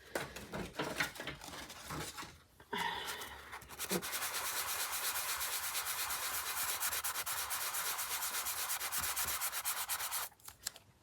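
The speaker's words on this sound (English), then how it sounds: "And then we're going to sand it a little bit. This is very coarse." Coarse sandpaper rubbed back and forth over a coin envelope mini journal, a close, steady rasping scrape that runs continuously for most of the stretch after a few shorter strokes at the start.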